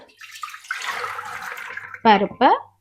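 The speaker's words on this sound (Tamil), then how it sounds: "பருப்பை போட்டுட்டு அது மூழ்கிற அளவு தண்ணி விடணும்" Water poured over lentils in a pressure cooker while making boli: a short splashing, rushing pour, fairly close, followed by two brief vocal bursts.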